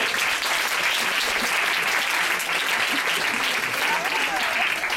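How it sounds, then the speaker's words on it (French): An audience applauds a contestant named Stéphane, a full, continuous roar of clapping with voices murmuring faintly beneath it. "on applaudit Stéphane"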